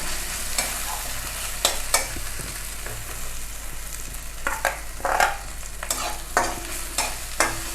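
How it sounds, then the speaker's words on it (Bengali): Mushrooms fry in oil in a Bengali-style pan while a spatula scrapes and stirs them, giving a steady near sizzle broken by repeated sharp scraping strokes, with no talking. "ছাতু বা মাশরুম এইভাবে ভাজলে খুব টেস্টি হয় খেতে, খুব ভালো লাগে খেতে।"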